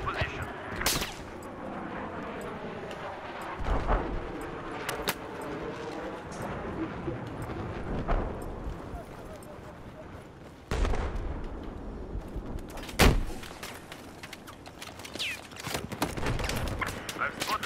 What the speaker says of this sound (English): I just randomly shot a fucking RPG into the air.